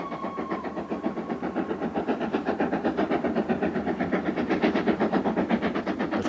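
A steam locomotive chuffs steadily in a fast rhythmic beat, with rumbling wheels and mechanical clatter underneath, loud and close.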